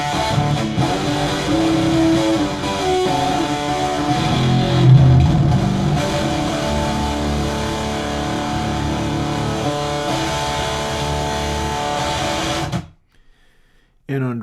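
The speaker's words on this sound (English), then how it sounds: "you continue to boost it until it has all of that sort of tape saturation and tape" Dense, gritty music with a thick compressed texture from a tape saturation distortion effect playing steadily, then cutting off abruptly near the end.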